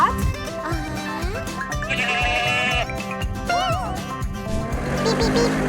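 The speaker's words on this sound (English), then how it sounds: "Do you hear the goat?" A goat bleats several times in a farmyard, wavering cries rising over a busy background of children's voices, music and other animal sounds, close and fairly loud.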